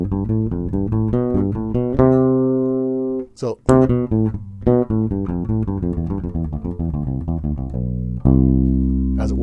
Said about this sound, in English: So repetitive thirds sound like this.